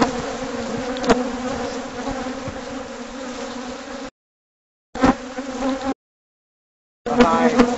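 Dense, steady buzzing of many bees swarming around a large hive during a bee removal job in San Diego, loud and continuous, cutting out briefly and returning in short bursts.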